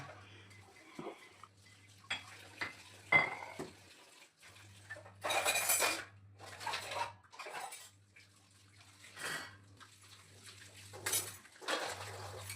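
Dishes, pots and utensils are washed in a home kitchen, with intermittent clinks and clatters of metal and crockery alongside bursts of running and splashing water and a low steady hum.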